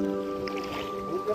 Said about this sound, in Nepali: हाम्रो दिदी ढुङ्गा चलाउने हुनुहुन्छ।